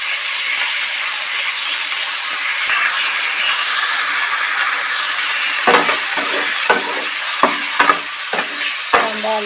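Small-chopped potatoes frying in a pan for fried rice made from leftover rice, a loud continuous sizzle, with a run of sharp spatula scrapes and knocks in the second half.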